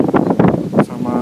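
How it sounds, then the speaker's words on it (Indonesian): Strong outdoor wind buffets the microphone of a first-generation iPad mini in drizzle, loud gusty rumbling bursts in uneven pulses, with talking mixed in. "Waduh, ini angin lagi kenceng banget ya."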